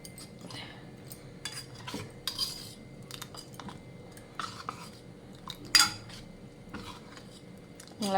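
A spoon stirs rice flour dosa batter with cumin seeds in a metal bowl, making irregular scrapes and light clinks close by with quiet gaps between them.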